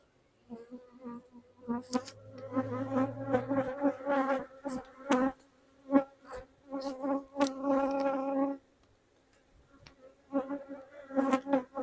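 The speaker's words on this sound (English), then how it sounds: "Now, they look like there's plenty of bees in here" Honeybees swarm through an opened beehive as the honey stores are checked, a close, dense buzzing with overlapping wingbeat drones that swell and fade in bursts, pausing briefly near the middle before resuming.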